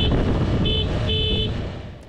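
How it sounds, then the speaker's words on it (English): A Suzuki V-Strom 800DE motorcycle horn blows in a short rhythmic pattern: two clear toots, the second longer, over steady road and engine noise. "we've tried to work out why she did this little bit of rhythmic horn blowing"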